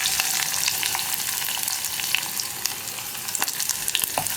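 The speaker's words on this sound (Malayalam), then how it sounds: "ഇഞ്ചിയും ഉള്ളിയും ചേർത്തിട്ട് ഒന്ന് വഴറ്റിയെടുക്കുക." Ginger and onion sizzle and fry in a clay pot for a Kerala yogurt curry, a steady close crackle with a few sharp stir clicks, no voices.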